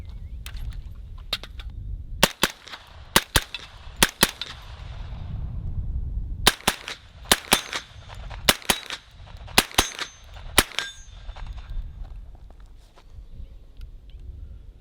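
Suppressed 10mm shots from a CMMG MK10 Banshee PDW crack out in sharp, separate reports, sometimes in quick pairs, outdoors over low background rumble.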